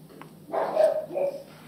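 Dogs bark outside, one drawn-out, mid-distance bark followed by a softer second one, muffled as if heard from indoors.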